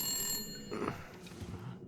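A telephone bell rings in The Long Dark, a wilderness survival game, a sustained metallic jangle fading into a few softer rattling strikes over low ambient rumble.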